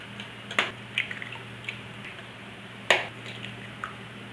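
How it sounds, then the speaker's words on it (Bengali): Three eggs cracked into a bowl of chopped papaya with onion, coriander and chilli, making a few soft wet plops and drips up close, with no voices. "আর যে 3টে ডিম রেখেছিলাম সেই ডিম 3টে এর মধ্যে"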